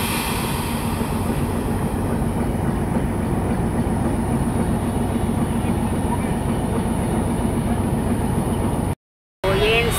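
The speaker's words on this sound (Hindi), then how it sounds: "HPU हिटैची बम्बार्डियर यूनिवर्सल, ज़बरदस्त एक्सेलरेशन है इसकी और काफ़ी ज़बरदस्त सफ़र जा रहा है इससे।" Hitachi Bombardier locomotive hauling the Attock Safari train along the rails, a steady loud rumble with rhythmic wheel clatter throughout, briefly cut to silence near the end.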